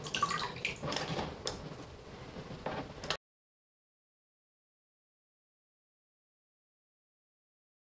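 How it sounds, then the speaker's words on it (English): Water pressed from a sheet of handmade paper, made with thread, drips and trickles into a bin in a close, splashy patter for about three seconds before cutting to silence. "I'm gonna work from the top to the bottom of the sheet, pressing the water back into the bin."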